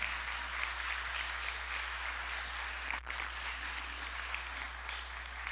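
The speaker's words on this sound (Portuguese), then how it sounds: "eu queria que você aplaudisse ao Senhor" Congregation applauding in a church service, a soft, steady wash of clapping over a constant low electrical hum, heard at a distance for the whole span.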